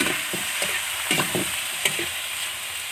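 Capiz shells sautéing in a pan outdoors in a rural setting, a steady close sizzle with scattered stirring scrapes and clicks, no voices.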